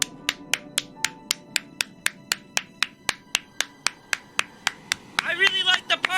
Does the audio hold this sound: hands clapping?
yes